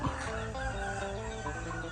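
Dense chorus of chickens clucking and calling together inside a chicken-rearing house, steady and continuous, with many overlapping birds close by.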